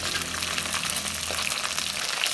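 Capitaine fish frying undisturbed in hot oil, a dense, even crackling sizzle that holds steady and close throughout.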